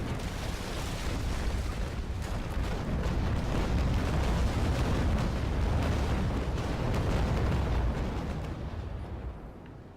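Rolling cannon broadsides from sailing warships in the naval combat game Naval Action, a sustained, dense barrage of booming blasts and rumbling explosions that runs loud and continuous for the whole stretch before easing off at the end.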